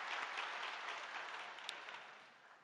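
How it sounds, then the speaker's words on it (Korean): A church congregation gives sustained applause in thanks to the Michael choir after a hymn, a dense, even wash of clapping that holds steady and then slowly tapers off. "우리를 격려한 미가엘 찬양대에게 감사의 박수 올립니다"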